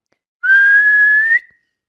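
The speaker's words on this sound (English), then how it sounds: "and he blew his whistle." A referee's whistle at a football match sounds one loud, steady, single-pitched blast lasting about a second, heard alone against silence.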